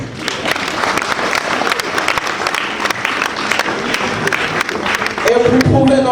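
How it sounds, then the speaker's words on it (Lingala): Wedding guests in a hall at a religious ceremony break into sustained loud applause that fills the whole room, dense and steady, with a brief swell of cheering or voices near the end. "je vais demander à la salle d'applaudir très fort"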